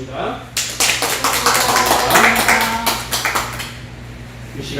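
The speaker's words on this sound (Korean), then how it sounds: "같이 박수하고 가겠습니다" A crowd at a graduation worship service claps in a sustained burst of applause that starts after a brief pause, rolls on for several seconds, then tapers off, with a voice heard over it.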